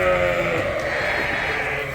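Ewes on a sheep farm bleat together in a steady, dense chorus, loud and close, with no talking over them.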